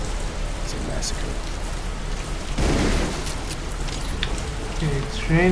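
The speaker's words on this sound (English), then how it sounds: "Okay, it's raining." Rain falls in the Splatter Blood Red Edition video game as a steady wash of patter, with a brief louder surge midway and a few faint game sounds over it.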